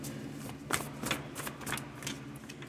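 Playing cards shuffled and drawn from a deck during a tarot-style reading, a few quick riffling flutters and soft snaps close by, faint and alone.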